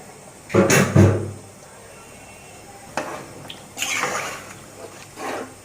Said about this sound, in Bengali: পরিমাণে আমি গরম পানি অ্যাড করলাম।